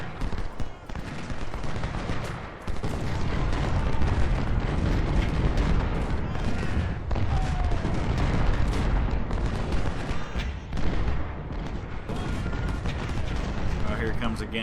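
Cannon artillery of 12-pounder guns firing in the American Civil War game Ultimate General: Civil War at Second Bull Run: dense, continuous booming and crackling volleys, loud and sustained with sharp bursts throughout.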